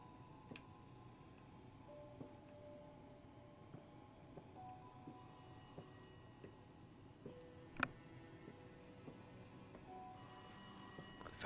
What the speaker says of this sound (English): Phone's going again.